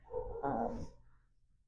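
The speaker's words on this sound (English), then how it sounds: "We got some serious dog barking." A dog barks a few times, muffled and somewhat distant, with a hollow, echoing quality before fading out.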